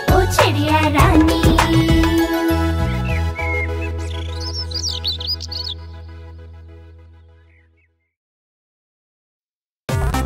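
Chirping bird calls in a Hindi children's song about a sparrow, bright tweets over musical tones that fade out, then a brief burst of sound returns at the end.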